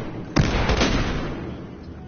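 A frag grenade explodes in a first-person shooter Search and Destroy match: one sudden loud blast with a rumbling, crackling tail that fades over about two seconds, no talk over it.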